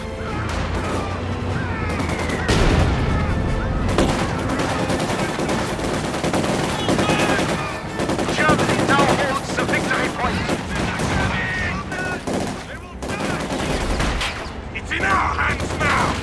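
Dense gunfire from the World War II strategy game Company of Heroes 2, rapid machine-gun bursts and rifle shots mixed with explosions and crashes in a loud, continuous battle, with shouted voice lines over it.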